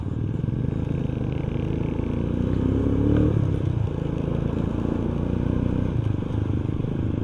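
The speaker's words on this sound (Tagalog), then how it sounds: "break and break in ang motor ni Israel" Motorcycle ridden gently during engine break-in on a road trip to Padre Garcia, Batangas, its engine droning steadily and close throughout with light rattles and wind, no talking.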